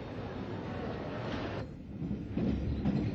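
Brighton Belle electric train leaving London Victoria in 1939, heard from the cab as a steady, loud rumble of wheels on rails with rhythmic clatter that briefly dips and then returns stronger.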